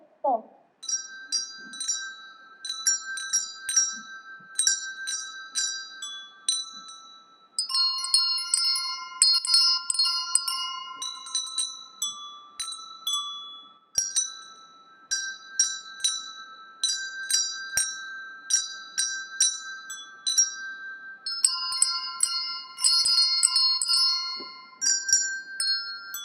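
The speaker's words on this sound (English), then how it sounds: "I can hear jingle bells." Bright, clear bells ring during a 2020 school nativity play at St. Mary's College Preparatory School. The strikes come in a steady, tuneful rhythm for a long stretch, close and fairly loud, with no talk over them.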